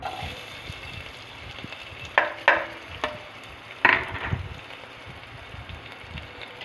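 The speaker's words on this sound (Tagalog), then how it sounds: "Gisa natin yan" Sautéing in a pan for chicken tinola: a faint, soft sizzle runs throughout, with a few louder metallic clanks of a spoon against the pan near the middle.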